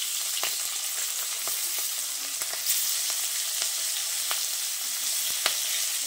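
Onions and capsicum sizzle in oil over a high flame, a continuous bright crackle with scattered sharp pops and spatters, close and alone.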